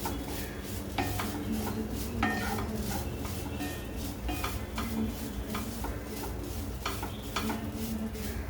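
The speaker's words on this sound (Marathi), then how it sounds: "छान परतून झालंय" Modak filling being sautéed in a pan, a low steady sizzle with repeated light scrapes and clicks of a spatula, faint and close, with no talking.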